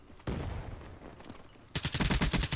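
An AK-style assault rifle fires in Call of Duty: Black Ops 3, first a burst of shots, then a louder, rapid string of close automatic fire toward the end, with no talk over it.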